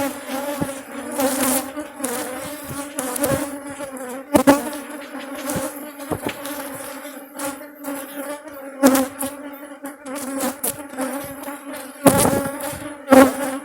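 Honeybees buzzing continuously around an open hive during a frame inspection, a dense close drone with a few louder passes near the microphone and no talk over it.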